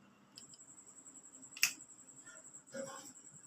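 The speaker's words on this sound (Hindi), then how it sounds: "देखो चुटकी बजा रहा हूँ" A few crisp finger snaps in a quiet room, one sharp loud snap standing out between softer ones, with faint voice murmur around them.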